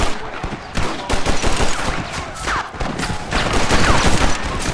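Rapid gunfire fills a Red Dead Redemption shootout, loud, dense volleys of overlapping shots and bursts rolling continuously, with brief shouted voices in the mix.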